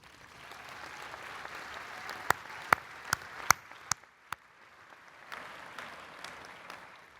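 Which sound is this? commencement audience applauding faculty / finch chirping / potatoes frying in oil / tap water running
commencement audience applauding faculty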